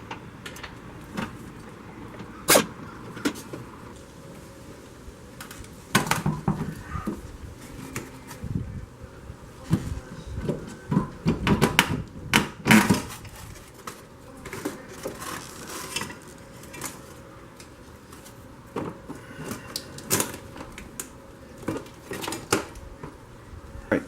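Brake booster bolts on a 2001 Chevy Silverado 2500HD are worked loose through the firewall with hand tools, giving scattered metallic clinks, taps and short ratcheting bursts at irregular intervals, close and fairly quiet, with no talk.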